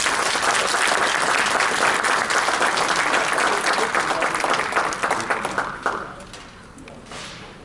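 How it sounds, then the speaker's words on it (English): Loud sustained applause from a crowd that gradually thins and fades to scattered claps near the end. "please give a great round of applause to a great person, Father Okeke"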